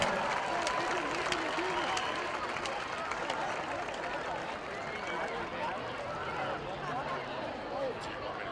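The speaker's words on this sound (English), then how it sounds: "Ladies and gentlemen, a round of applause for your 2023 homecoming royalty" Crowd applause and cheering in the stands at a high school homecoming football game, honoring the 2023 homecoming royalty; steady broad clapping throughout, with an announcer's voice and crowd chatter mixed in.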